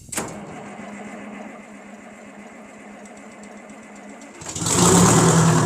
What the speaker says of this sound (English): You guys want to hear a really quiet tractor?